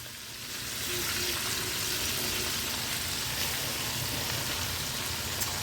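Large-cut cabbage pieces hit hot oil in a pan and settle into a steady, hissing sizzle like rain, loud and close, with no talking.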